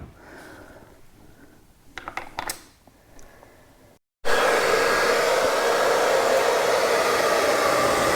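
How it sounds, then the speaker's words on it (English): A hair dryer starts up after a few faint clicks and handling sounds, then runs with a loud, steady whooshing roar while heating a plastic car bumper to repair a dent. "we're trying to heat this up with a hair dryer"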